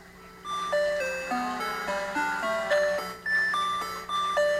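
A synthesizer sequencer with three digital oscillators plays bright electronic tones stepping through a repeating melodic pattern over a steady low drone, with no voices.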